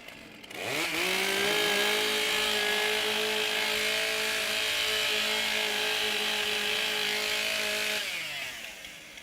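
A chainsaw at a STIHL Timbersports Australian Pro Championship woodchopping event roars up to a steady loud high-pitched whine, holds it for several seconds, then eases back down, with no talking over it.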